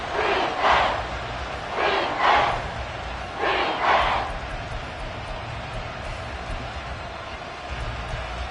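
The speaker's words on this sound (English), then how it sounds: "the crowd getting into it as we come up on a big 3rd down" Stadium crowd noise in the Madden football video game swells ahead of a big third down, with several loud, rhythmic roaring surges, then settling into a steadier, quieter background rumble.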